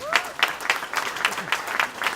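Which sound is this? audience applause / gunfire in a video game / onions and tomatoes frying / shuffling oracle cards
audience applause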